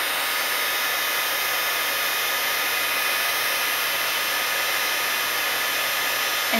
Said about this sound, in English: And you just hold it down and turn on your heat gun.